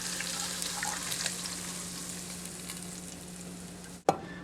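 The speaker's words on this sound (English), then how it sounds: "Time to drain that meat, get all the fat off of it" Ground meat cooked for shepherd's pie gives a steady, close sizzle and crackle in the pan, ending in a sharp clatter near the end.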